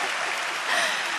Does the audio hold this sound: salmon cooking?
no